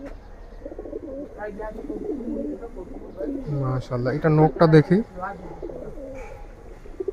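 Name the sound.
pigeons cooing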